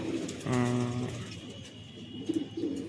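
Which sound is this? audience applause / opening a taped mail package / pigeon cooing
pigeon cooing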